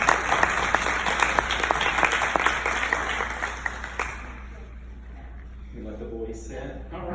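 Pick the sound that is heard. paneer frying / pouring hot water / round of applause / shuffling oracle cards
round of applause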